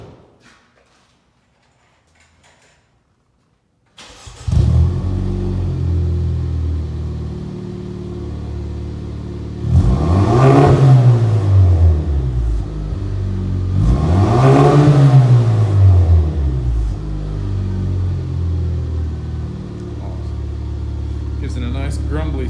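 A car engine in a swapped build revs twice in deep, grumbly sweeps over a steady rumbling idle, loud and close, with no talk.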